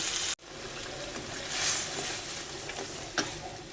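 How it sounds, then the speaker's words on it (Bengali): Tomato paste goes into a pan of sizzling fried spices during home vegetarian Bengali cooking, giving a steady, fairly loud hiss and frying crackle. A sharp break comes early, then the sizzle swells again with a brief clink later. "মশলাটা কষানো হয়ে গেছে এবার টমেটো বাটাটা দিয়ে দিচ্ছি"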